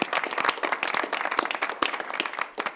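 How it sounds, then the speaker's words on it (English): An audience claps at the close of a panel discussion on regulating genetic testing, many hands beating in a lively, uneven patter that stays fairly loud from start to finish. "A round of applause for the audience"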